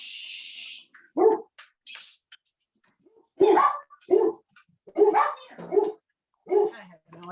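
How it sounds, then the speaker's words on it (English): Two household dogs bark in several sharp, separate bursts, close and fairly loud, with a brief hiss at the start and quiet gaps between the barks. "I've got 2 dogs that will probably fight during this."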